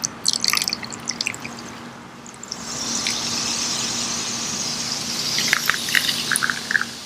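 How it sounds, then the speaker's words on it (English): A frozen volcano experiment fizzes and bubbles steadily with a hissing wash, broken by scattered small pops and drips, loud and close, with no voices. "The volcano is steaming and bubbling, even though it is frozen."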